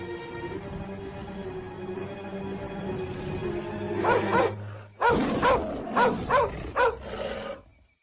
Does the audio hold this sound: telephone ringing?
no